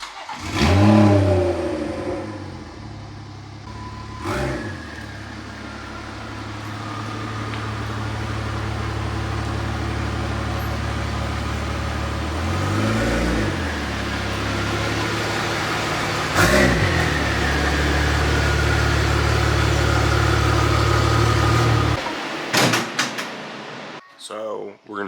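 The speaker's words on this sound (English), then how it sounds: "we'll get the car pulled in" A BMW F32 car engine idles and pulls into a home garage, a steady low mid-range hum with brief revving swells near the start and around the middle, then cuts off near the end, with occasional clunks and a person talking over it.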